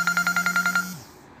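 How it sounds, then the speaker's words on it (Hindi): An incoming call on a mobile phone rings with a fast run of eight pulsing electronic beeps over a steady low tone, close and loud, then cuts off abruptly. "तो देख सकते हैं कॉल आ चुका है"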